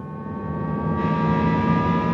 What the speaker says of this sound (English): add some sound at about somewhere between sort of 50 to 100 kilometers an hour, such that it represents when you're accelerating up